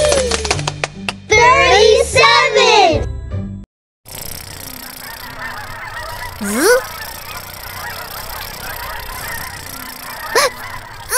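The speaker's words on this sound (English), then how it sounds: "Sam joined the 37 geese that were heading south for the winter" A flock of geese heading south for the winter honks loudly in a rapid burst of overlapping nasal calls, then, after a brief silence, a few single honks sound over a steady outdoor background.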